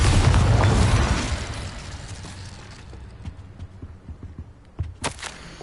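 Spell blasts from Expulso and other combat magic in Hogwarts Legacy: a heavy booming burst up front that rumbles and fades, followed by scattered smaller impacts and a sharp crack near the end.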